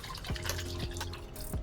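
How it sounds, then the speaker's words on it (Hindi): Water poured into cooked dal with a tap-like trickle and liquid splashing, short drips and sloshes close by in a kitchen, no voices. "इसमें मैं पानी डालकर इसे फेंट लेती हूँ।"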